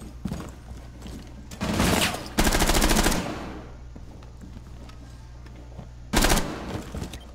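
Gunfire in Rainbow Six Siege during a Kafe Dostoyevsky hostage match comes in loud automatic bursts, one short, one longer sustained rattle, then another burst after a pause, with quieter game noise between.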